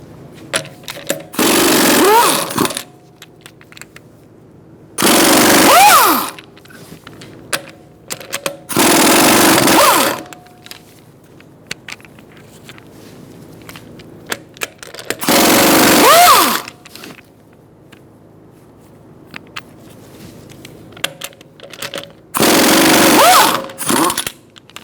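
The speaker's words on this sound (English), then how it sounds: "Using a 19mm socket, we're going to remove our wheel." An impact wrench with a 19mm socket removing the rear wheel of a 2012-2018 Ford Focus: five loud, harsh bursts of a couple of seconds each, separated by quiet pauses with faint clinks and handling noises.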